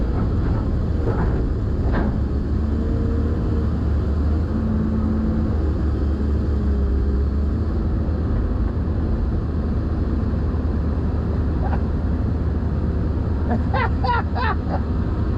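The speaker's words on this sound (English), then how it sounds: "let Derek come down here and get the bulldozer in position" A bulldozer engine rumbles steadily as the machine is driven into position for a field repair, a constant low drone with faint clanks and a few higher squeals near the end.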